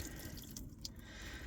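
A last trickle of water drains from a Volvo Penta V6/V8 boat engine during winterizing, a faint dripping and gurgling over steady background noise with a couple of small splashes.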